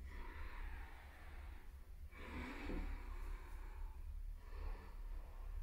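Slow, deep breaths during a gentle, flowing yoga session, with long airy inhales and exhales that rise and fade in a steady rhythm, close and soft with no talking.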